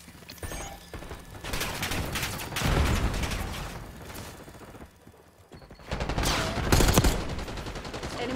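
Gunfire in Call of Duty Black Ops 6, bursts of rapid shooting mixed with mechanical clatter, loud surges separated by a brief quieter lull.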